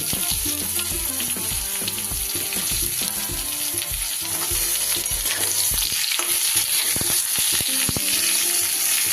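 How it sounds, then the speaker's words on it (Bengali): Pointed gourd and ridge gourd fry in a pan, giving a steady, loud sizzle with scraping stirs throughout and no talking. "পটলটা বেশ ভালো ভাজা হয়ে গেছে, এবার দিয়ে দেবো আমি ঝিঙে দিই।"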